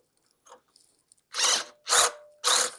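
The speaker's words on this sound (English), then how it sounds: "So I've got to get that drilled out to the right size. So I'm using a step bit." A step bit bores through the metal of a greasable trailer hitch fitting for an e-bike, three loud bursts of power-drill whine, each about half a second, following a couple of faint clicks.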